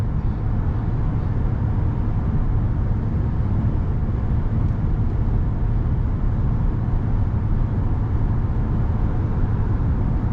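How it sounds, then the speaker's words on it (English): Cab noise from a heavy pickup driving across a bridge, a constant low road rumble with soft, evenly spaced thumps as it rolls over the bumps, no voices. "You can hear how well this truck goes over the bumps"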